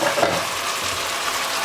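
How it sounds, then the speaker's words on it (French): A spoon stirs mafé sauce with turkey, onions and carrots in a pot, a brief close bubbling, sizzling swirl that holds steady with no pauses. "Je mélange le tout."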